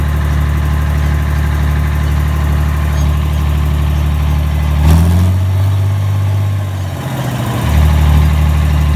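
An International Harvester tractor engine idles steadily with a deep low throb, briefly shifting pitch partway through before settling back into an even idle, with no voices.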